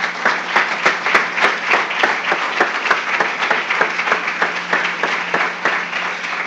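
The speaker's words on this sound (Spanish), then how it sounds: "Démosle un aplauso, Señor, hermano." A church congregation claps steadily in sustained applause, many hands together at a fairly loud level with a regular rhythmic pulse throughout.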